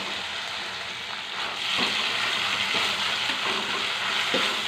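Ginger paste, onion paste, green chillies, curry leaves and coriander fry in oil, giving a dense, close hiss that swells partway through, with a few soft knocks of a spoon in the pan.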